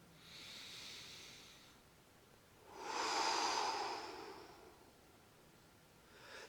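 Slow, deep in-breath during tai chi practice: a soft airy inhale rising to a louder swell, then easing off, near and quiet with no talking.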